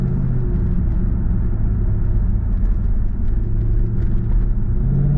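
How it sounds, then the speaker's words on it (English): Supercharged 4.2 litre V8 of a Jaguar XK R (X100) droning loudly from inside the cabin while driving, a steady low engine rumble with a faint high whine riding over it. "The supercharger really whines in this car."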